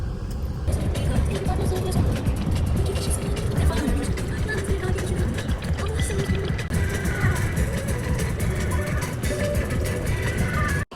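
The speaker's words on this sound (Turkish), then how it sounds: "Şimdi arabayı park ettik." A car rolls into a shopping mall parking lot, its engine and road noise a steady, fairly loud rumble heard from inside that continues throughout with no clear speech.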